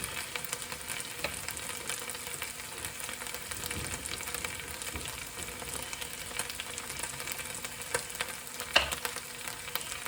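Sliced Scotch bonnet and green finger chillies sizzle and fry steadily in a curry pan made with jarred curry sauce, a close, continuous hiss with a brief stir or clatter near the end and no talking.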